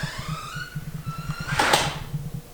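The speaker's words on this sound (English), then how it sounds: "Door just closed itself." A door swings shut on its own with a short, soft clunk partway through, set over a low, rhythmic background hum.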